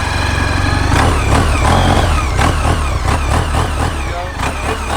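A 2015 Kymco My Road 700 automatic scooter engine runs close by, its throttle blipped into several rising and falling revs over a steady idle.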